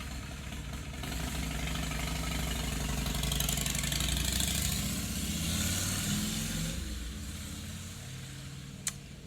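A motorcycle engine rumbles nearby, swelling and fading as it passes, with a steady mid-pitched drone and a sharp click near the end.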